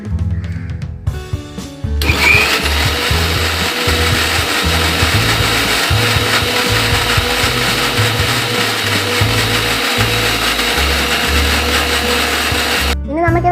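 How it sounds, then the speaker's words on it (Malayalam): After a brief pause, a mixer grinder whirs loudly and steadily as it grinds a sticky honey candy batter thinned with water, a gritty, churning roar that cuts off abruptly at the end. "ഇതൊന്നുകൂടെ ഗ്രൈൻഡ് ചെയ്തെടുക്കാം."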